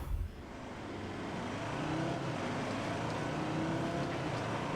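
A 3.2-litre five-cylinder car engine in The Grand Tour Game drones at a steady, loud, continuous pitch, holding a constant rumble throughout with no voices over it.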